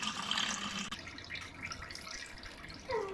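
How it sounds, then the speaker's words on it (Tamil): Ground coconut mixture pours from a grinder into a straining cloth at home for virgin coconut oil, a steady wet splashing and trickling of thick liquid, fairly close, with a brief gurgle near the end. "இப்போ நம்ம கிரைண்டரில் இருக்கிறத மொத்தத்தையும் இந்த துணியில் ஊற்றுறோம்."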